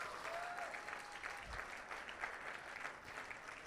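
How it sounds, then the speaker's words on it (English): An audience at a charity auction fete for Crohn's and Colitis applauds, a faint, distant, steady wash of clapping lasting the whole moment. "So one more round of applause for that."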